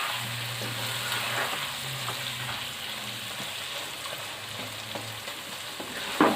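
Slit green chillies frying in a pan for beef keema pulao, giving a continuous soft sizzle with faint scattered crackles and a brief clatter at the very end; nobody speaks.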